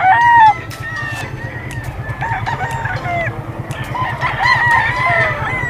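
A young hennie gamefowl stag crows and clucks close by, with repeated calls over a steady low rhythmic mechanical hum and other fowl sounding in the background.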